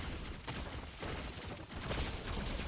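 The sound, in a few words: shotgun firing in Fortnite video game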